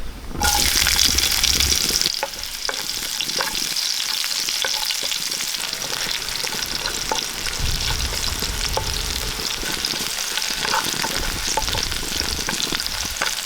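Mustard seeds and round-sliced shallots sizzle in hot oil, with a sharp hiss and crackle that flares at the start, then settles into steady close frying with scattered pops and a few stirring clicks.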